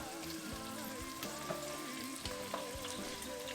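Vegetables, including cabanella pepper, sauté in a pan for a Macedonian bean stew, giving a steady soft sizzle with occasional scrapes and light clinks of stirring, close and fairly quiet with no talking.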